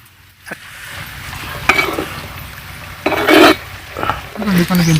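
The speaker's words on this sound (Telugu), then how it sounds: "కొంచెం మన బేజన్ ఫ్రై చేసుకోవాలి" Besan being stirred and fried in a pan while cooking a goat head and trotter curry, with scraping spoon strokes and bursts of sizzling that swell and fade over a steady low frying hiss.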